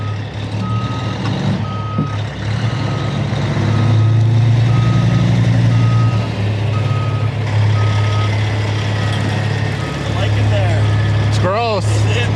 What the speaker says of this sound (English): here comes the truck I was doing that rig move with